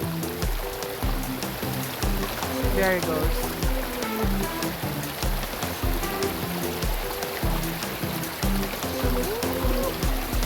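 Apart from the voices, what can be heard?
water from washing chicken poured out by a river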